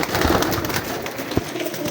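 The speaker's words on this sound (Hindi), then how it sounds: "एक जैसे कबूतर हैं सारे" Pigeons in a loft setup of about fifty birds, giving soft low cooing amid a busy rustling background, with one brief louder burst near the middle; steady and close, no talk.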